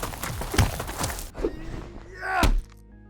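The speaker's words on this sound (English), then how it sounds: "another important sound that we need to do is him landing" Sound-designed character landing effect built with Krotos plugins: a sequence of heavy thumps and whooshing impacts, ending in a loud low thud followed by a ringing tail, fairly close and unaccompanied by speech.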